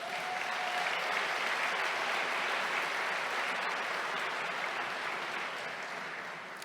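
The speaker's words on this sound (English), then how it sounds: "please give him a round of applause" An audience at a city's State of the City address gives a sustained round of applause, a dense even wash of clapping that holds steady and fades slightly toward the end.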